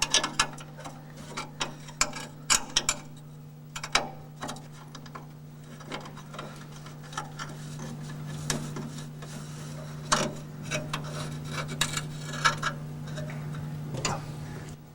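A 7/16 wrench ratchets repeatedly at a bolt on a Rolls-Royce handbrake lever, giving sharp irregular clicks and ticks close by over a steady low hum.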